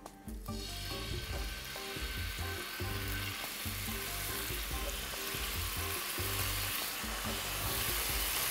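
Chicken breast cut into strips fries steadily in a pan, a dense, continuous sizzle with bursts of crackle, close and fairly loud from start to finish, no voices.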